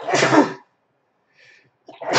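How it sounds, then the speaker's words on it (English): A single loud, close sneeze, followed by a brief faint sniff or breath and then a short burst of another sneeze-like exhale. "Oh man, I need to sneeze."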